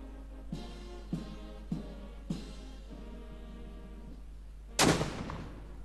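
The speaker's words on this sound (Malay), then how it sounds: "diiringi dengan lagu kebangsaan serta 21 das tembakan meriam" Cannon fire at a state ceremonial welcome, part of a 21-gun salute: four evenly spaced distant booms about half a second apart, then a louder, closer blast near the end over a steady low hum.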